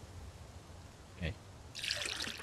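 Water trickles into a bottle in the survival game Mist Survival: a brief splash, then a louder, steady, hissing fill that runs to the end.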